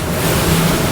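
Steady open-ocean wash of waves and wind against a boat crossing toward Bimini, a continuous loud roar of surf and spray with low rumble, no voices.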